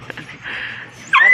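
A dog at the Bocaue pet market gives a brief whimpering whine, close and fairly loud, ending in a sharper high yip.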